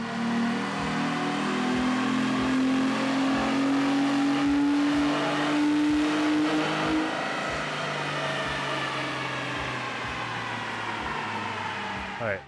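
A 2016-2023 Toyota Tacoma fitted with an R4T cat-back exhaust and a K&N air filter revs steadily on a dyno, its engine note climbing in pitch through a long sustained pull before easing off, loud and close throughout.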